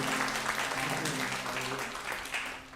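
A crowd claps continuously, a dense, steady patter of applause heard at a moderate distance, with faint voices mixed in.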